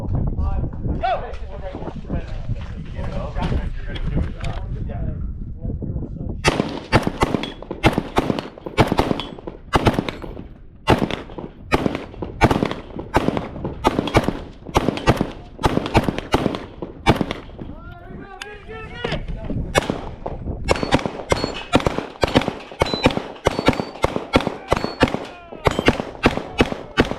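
Gunshots from a Tavor X95 rifle and Glock 47 pistol at a two-gun match, loud sharp cracks fired in quick strings with short pauses, near and prominent, with brief range commands spoken before the firing.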